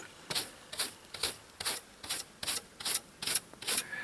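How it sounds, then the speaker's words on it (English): Hand scraping at a surface at an off-grid homestead, about nine evenly spaced raspy strokes roughly half a second apart, close and moderately loud with no voices. "this one I'm just going to scrape as good as I can and leave it for the sun to clean off"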